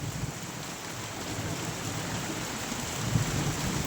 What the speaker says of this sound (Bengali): প্রচুর বৃষ্টি শুরু হয়ে গেল